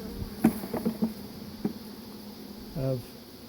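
Honey bees buzz on hive frames during a transfer of frames of bees and brood, a low steady hum with a few brief louder passes and a short rising drone near the end.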